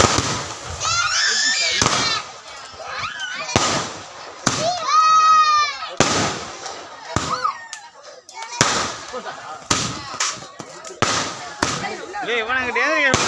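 Sivakasi firecrackers burst in repeated sharp cracks and pops, some with whistling, fizzing trails, loud and close, while people talk and shout throughout.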